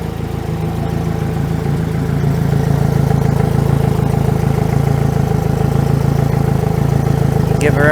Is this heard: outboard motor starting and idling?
yes